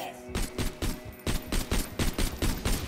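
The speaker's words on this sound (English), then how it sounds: "What kind of explosion gun you got, bro?" Rapid bursts of video game gunfire with explosive hits, a loud, dense stream of repeated shots at a steady rhythm with no pause.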